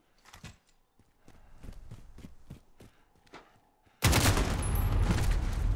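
Gunfire in Call of Duty Modern Warfare online multiplayer: a rapid series of sharp shots and footsteps at moderate level, followed by a sudden loud sustained burst of noise near the end.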